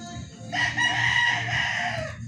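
A Boston Roundhead bull stag rooster gives a single loud, close crow lasting under two seconds, with low background rumble beneath it.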